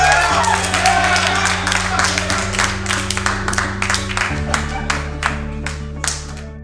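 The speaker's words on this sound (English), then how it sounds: "You guys deserve a round of applause" Applause for cooks after a cooking competition round, a crowd clapping steadily for several seconds over a low humming background, the claps thinning out toward the end.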